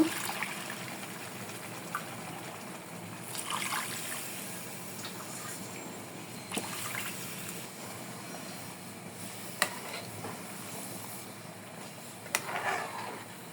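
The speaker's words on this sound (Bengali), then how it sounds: "গরম পানি দিয়ে দেব" Hot water poured into a pot of partly cooked country rooster meat and rice for biryani, a soft, quiet trickle and gush with a few faint clinks of the pot.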